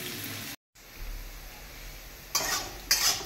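Sabudana fries with a little salt in a covered pan, a low soft sizzle broken by a brief silence, then two louder bursts of scraping stirring near the end; no talking.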